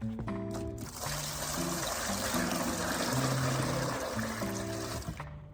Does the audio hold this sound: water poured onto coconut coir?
yes